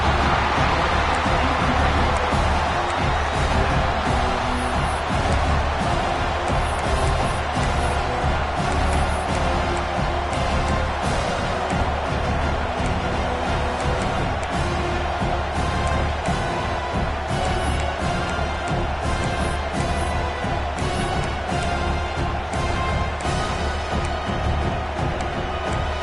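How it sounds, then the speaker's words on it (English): A huge American football stadium crowd roars and cheers continuously, a dense wall of noise with no letup, bursts of whistles rising above it. "This crowd bringing the energy and noise early."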